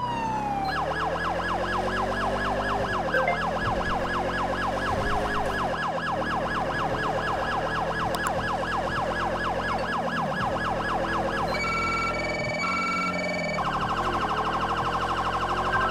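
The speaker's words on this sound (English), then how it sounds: "Bro, this one siren is loud." A loud police siren wails without a break in a police roleplay video game, cycling through rising and falling tones and switching pattern near the end, with a vehicle engine humming underneath and nobody speaking.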